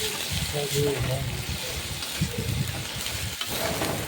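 Garlic paste frying in a pan and being stirred, a soft, steady sizzle with scraping strokes running beneath a person's talking.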